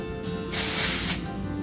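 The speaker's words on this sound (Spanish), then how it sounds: "Lo que voy a hacer es aplicar un poco de spray para fijar" Hairspray hisses from an aerosol can onto curled hair styled with a Dyson Airwrap, one steady close burst lasting over half a second amid quiet room noise.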